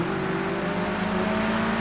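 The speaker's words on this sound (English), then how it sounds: "Healthy wheel spin and we're away." Touring cars pull away from a British Touring Car Championship race start with wheel spin, a loud continuous engine roar with steady tones rising slightly as the pack accelerates.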